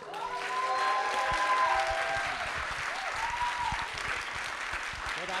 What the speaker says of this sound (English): And please a big applause for Yoshi.